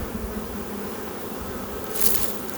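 A honey bee colony buzzes steadily inside a beehive during a swarm-prevention inspection, a dense, continuous drone close by that swells briefly louder near the end.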